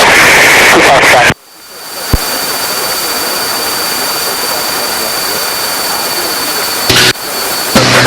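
A Cessna 340 twin-engine aircraft on a takeoff test flight gives a loud, steady engine drone heard from inside the cabin, with a sudden drop in level partway through and a short burst near the end.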